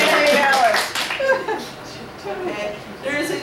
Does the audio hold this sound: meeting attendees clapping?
yes